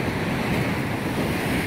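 Stormy ocean waves crash and wind roars at the Lynn waterfront, a loud, continuous, dense surge of surf with no speech.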